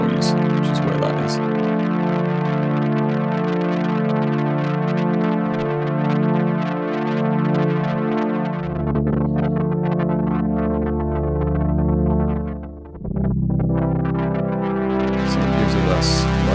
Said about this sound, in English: So it gives it that slightly wonky, warm tape vibe.